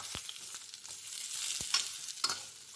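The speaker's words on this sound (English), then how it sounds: "I'm going to fry it until the onions become transparent" Two large chopped onions and green chilies fry in a pan, a continuous hissing sizzle with a few soft knocks of the spoon, heard close up without any talking.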